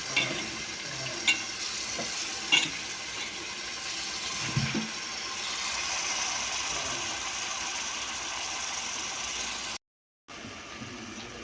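Tomato, raw banana and cucumber pieces fry in a pan with a steady, even sizzle that runs throughout. There are a few faint knocks of stirring, and a short gap of silence near the end.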